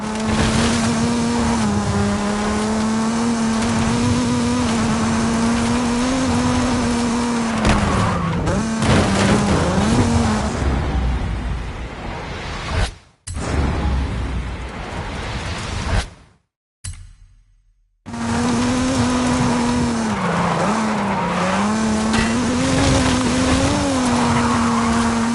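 A Mazda Miata races through dark volcano woods in Forza Horizon, its engine note droning and shifting pitch with tire skids, cutting out briefly twice before the steady engine drone returns.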